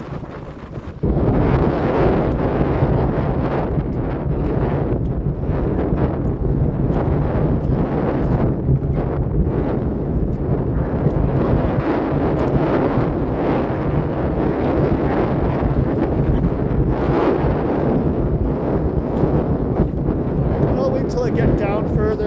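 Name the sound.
wind blowing on a beach, wind noise on microphone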